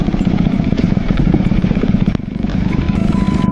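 A motorcycle engine, flooded after deep water at a mudslide race, runs loud and close with a rough, uneven clattering drone that sputters and struggles to pick up revs.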